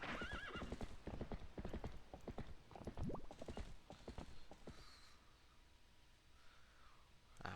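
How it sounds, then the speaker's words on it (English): Epona, the horse in The Legend of Zelda: Twilight Princess, gives a whinny while her hooves clip-clop in a quick, steady rhythm. The hoofbeats fade after about five seconds, leaving quieter game ambience. "I got my horse back."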